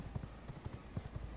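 Horse hooves clip-clop along a farmland trail in the V Rising video game: a quick, steady rhythm of dull thuds, close and continuous, with no voices over it.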